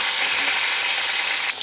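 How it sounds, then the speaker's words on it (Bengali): Pointed gourd (potol) pieces sizzle in hot oil in a wok, a dense, loud, steady hiss that cuts off abruptly near the end. "এবার তেলটা তেতে গেছে, এবার আমি পটলগুলো ছেড়ে দেব।"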